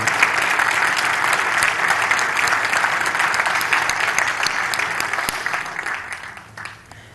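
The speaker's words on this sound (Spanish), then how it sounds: "Ahora es la parte donde aplauden porque ahora sí anduvo" Sustained audience applause fills the room after a conference talk on compiler optimizations at a security event, steady and dense for several seconds before thinning out toward the end.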